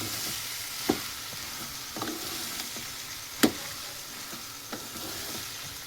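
Corn chevda being stirred with turmeric in a frying pan: a soft, steady hiss under a few scattered scrapes and taps of the spoon, one sharper knock midway, no talk.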